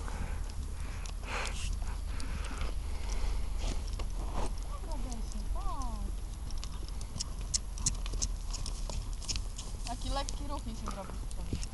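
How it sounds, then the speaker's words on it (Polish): Horse hooves clip-clop steadily in the background at a stable while people talk over them throughout, with some outdoor noise around. "Sylwia, zobacz jakiego masz super konia."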